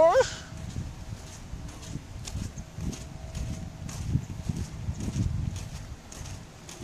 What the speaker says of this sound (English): Yes, that's a horse.